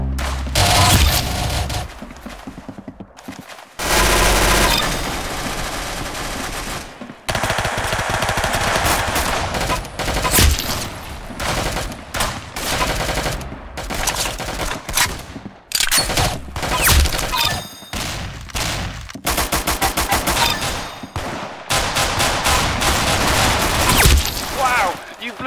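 Rapid video-game gunfire from Roblox Arsenal, dense automatic bursts and single shots repeating loudly across the whole stretch with brief gaps, mixed with game sound effects and occasional speech.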